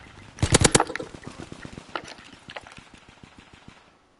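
Rapid automatic gunfire from a gun in the World War II shooter Call of Duty WWII: a loud, dense burst at the start, then quieter, evenly spaced shots trailing off into a fading echo.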